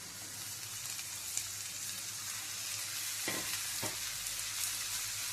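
Soaked lentils are stirred and mixed in a hot frying pan for an onion-dal dish, producing a steady dense sizzle with a couple of soft scraping stirs, close and continuous without speech.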